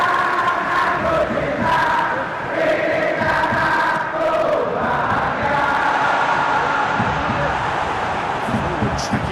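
A football crowd roars and cheers in the video game PES 2021 during a BRI Super League match between PSIM Yogyakarta and Persebaya Surabaya: a loud, continuous stadium din with swelling chants that rise and fall throughout.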